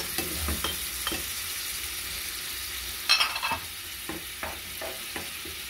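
Two grated tomatoes are added to a pan of softened onion for chicken in tomato and bell pepper sauce, and a soft steady sizzle runs under repeated scraping stirs from a spoon, close and alone.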